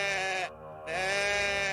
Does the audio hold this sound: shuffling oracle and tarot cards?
no